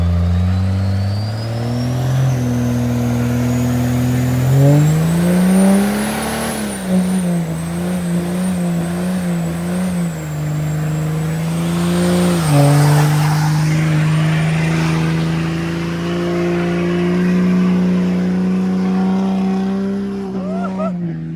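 A side-by-side UTV on oversized mud tires revs loudly and continuously as its wheels spin, the engine pitch climbing and surging while a tire whine rises above it; speech is faint or absent.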